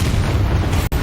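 Bombarda exploding spell in Hogwarts Legacy, a brief, loud, rumbling boom that holds steady for most of a second before cutting off with a quick dropout near the end.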